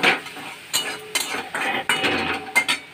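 Taro pieces being stir-fried in a pan: a spoon scrapes and clinks against the metal in uneven bursts over a faint sizzle, close and fairly loud.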